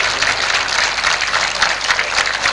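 An audience at an evening panel discussion on Indian cinema applauds the panelists, with dense, steady clapping that holds loud and continuous throughout and no talking over it.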